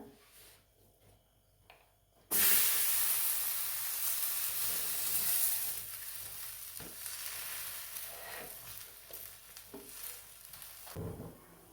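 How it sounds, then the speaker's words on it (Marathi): A sudden loud sizzle bursts out as a cabbage thalipeeth flatbread hits a hot griddle, then keeps hissing steadily and slowly fades, with occasional light scraping. "दुसरं थालपीठ तव्यावरती टाकून घेऊया"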